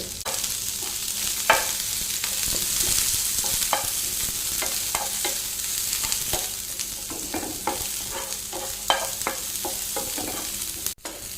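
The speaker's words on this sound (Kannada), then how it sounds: "ಪ್ಯಾನಿಗೆ ಸ್ವಲ್ಪ ಎಣ್ಣೆ ಹಾಕ್ತೇನೆ ಒಂದು ಐದು ಬೆಳ್ಳುಳ್ಳಿ ಸ್ಲನ್ ತೊಗೊಂಡಿದ್ದೇನೆ ಅದನ್ನು ಹಾಕಿದ್ದೇನೆ ಒಂದು ನೀರುಳ್ಳಿ ತೊಗೊಂಡಿದ್ದೇನೆ" Five cloves of garlic and an onion fry in oil in a pan with a continuous close sizzle, punctuated by repeated scraping and stirring knocks from a spatula; no one speaks.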